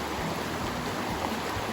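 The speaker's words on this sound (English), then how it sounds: "So this is our very first bend of the river and our very first rapid." Rushing water at the first rapid on a bend of the Buffalo River, a steady broadband wash with no clear breaks, heard from close by at the river's edge.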